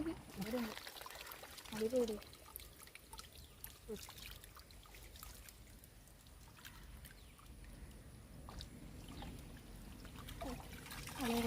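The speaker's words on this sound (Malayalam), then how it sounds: "വെള്ളം കേട്ടോ" Water trickles and splashes steadily in a paddy field, with faint voices and low rumbling in the background.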